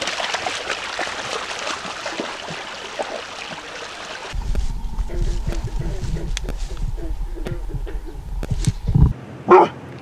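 A dog barks a few times outdoors in hemlock woods while deer scouting, short sharp yelps near the end over a low rushing background.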